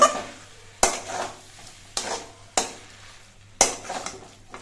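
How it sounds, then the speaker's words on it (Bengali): A spoon scrapes and clanks against a pot as banana stem curry is stirred with ghee and garam masala, four sharp metallic strikes spaced about a second apart over a faint, low sizzle. "এবার ঘি আর গরম মশলা দিয়ে নেড়ে চেড়ে মিশিয়ে নেব"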